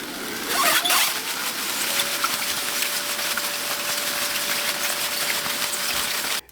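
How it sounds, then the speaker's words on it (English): An Ursa air pillow machine inflates packing air pillows for shipping, giving a close, steady whirring hiss with a faint tone that runs unbroken for several seconds and then cuts off abruptly. "The Ursa pillow machine makes these air pillows very quickly"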